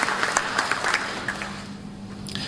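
A scattered, moderately faint round of audience clapping at a public lecture, a few distinct claps over room noise, fading out within a couple of seconds.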